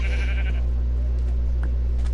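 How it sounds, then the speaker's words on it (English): A sheep in a video game gives a short, nasal bleat near the start, over a constant low electronic hum and faint background noise. "Coby, the sheep loves you."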